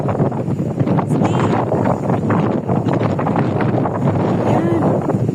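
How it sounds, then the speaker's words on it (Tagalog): Strong outdoor wind buffeting the microphone, a loud continuous rumble with people talking underneath. "Mahangin pa."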